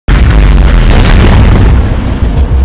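A loud, close bomb explosion booms and rumbles, a sustained roar with crackling debris that barely fades.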